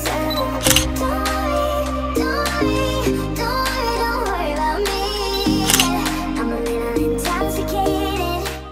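A Canon 200D DSLR with a 50mm lens firing its shutter during a photoshoot, a few short mechanical clicks spaced every second or two, partly buried under loud continuous background music.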